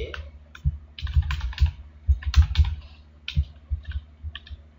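Keys clatter on a computer keyboard as code is typed, uneven bursts of close, fairly loud clicks and taps spread over several seconds, with no talking.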